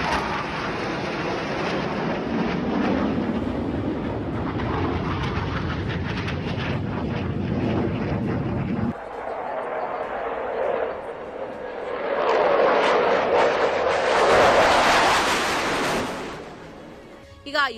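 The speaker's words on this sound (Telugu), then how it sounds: "అసలు ఈ విమానాలు గాలిలో ఎగురుతుంటే చూసేందుకు 2 కళ్ళు చాలలేదు" Aircraft flying overhead during an Air Force display at the Aero India air show: a sustained loud roar of jet engines that shifts and swells toward the end, with a crowd faintly beneath.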